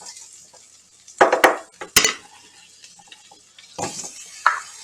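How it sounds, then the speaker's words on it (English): Potatoes land in a hot pan with butter, bringing sharp clatters and scrapes of utensils against the pan, then a faint sizzle under intermittent clinks, close up and with no talking. "put the potatoes down on the hot pan with the butter"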